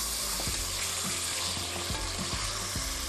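Bone-in chicken frying in a pot with ginger, garlic and a little onion, a steady loud sizzle with soft clanks of stirring every half second or so.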